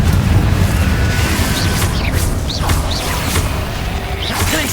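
A Confringo fire spell exploding in Hogwarts Legacy, a loud burst of booms and crashing impacts followed by rumbling debris and whooshing magical effects, dense and continuous.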